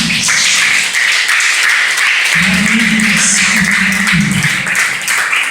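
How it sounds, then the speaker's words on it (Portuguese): A church congregation claps continuously, a dense steady patter of applause with a low voice or tone rising beneath it partway through. "aplauda o nome de Jesus."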